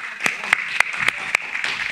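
An audience claps in a church gathering, with a brief patter of scattered claps and slaps close by for about two seconds. The clapping is fairly loud and carries steady crowd noise beneath it.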